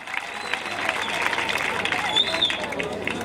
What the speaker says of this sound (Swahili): Applaudissez le gouvernement encore une fois.